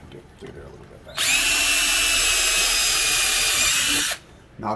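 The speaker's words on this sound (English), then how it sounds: "Now that is drilling into wood" A loud electric drill spins up and bores steadily into wood for about three seconds, with faint talk before and after.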